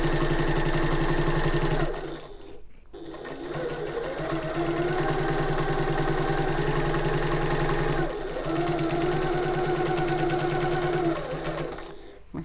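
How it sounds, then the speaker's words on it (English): A sewing machine stitches a tote bag seam with a steady, loud mechanical whir that briefly stops twice and then restarts. "We're sewing all the way to the top."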